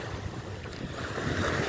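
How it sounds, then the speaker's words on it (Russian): Gentle sea waves wash onto an Adriatic beach at Bibione, Italy, as a soft, continuous rushing surf mixed with wind buffeting the microphone. "слабенькие волны на море"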